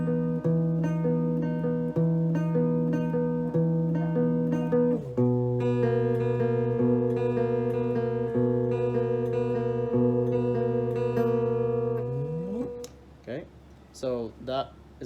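An electric guitar plays a picking pattern, a root note followed by the bottom two strings twice, as steady sustained repeated notes. A voice speaks briefly at the end.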